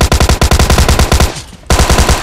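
A Thompson submachine gun fires in PUBG Mobile Lite, with loud, rapid, evenly spaced bursts, a brief pause, then the fire resumes.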